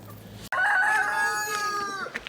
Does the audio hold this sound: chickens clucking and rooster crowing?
yes